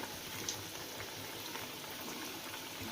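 Ridge gourd bhaji coated in flour batter fry in hot oil, giving a faint, steady bubbling sizzle with no talk.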